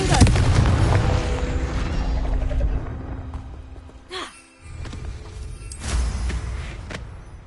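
Confringo fire spell in Hogwarts Legacy, a loud booming blast with heavy low rumble at the start that fades out, followed by whooshing magical effects and a second, softer burst.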